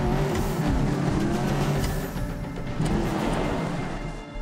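Car driven in the video game Medal of Honor Warfighter, a loud steady engine roar with road and tire noise, hints of skidding, close and continuous without talk.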